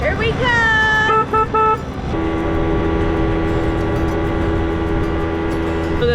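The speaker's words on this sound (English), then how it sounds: "There's signs that tell you to blow your horn when you come around the corner, so here we come." Horn honks from a moped rounding a corner on a Maui road: a few short toots followed by a longer sustained honk over the running engine hum, loud and close.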